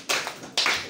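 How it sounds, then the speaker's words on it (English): Students clapping in an English class, two short bursts of hand claps from a small group, close and fairly quiet with a pause between them. "Clap hands for him."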